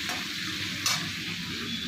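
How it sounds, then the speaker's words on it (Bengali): Sliced potatoes frying in a pan in a home kitchen, a steady close sizzle with a brief louder crackle partway through, no voices. "এই আলু ভাজা বসিয়েছি"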